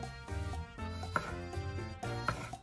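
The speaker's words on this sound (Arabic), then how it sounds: "وهلا قطعنا البصل والتومة كلهم قطع" A knife chops onion and garlic for Korean ramen. A few sharp, close taps on a board sit over a steady tonal background.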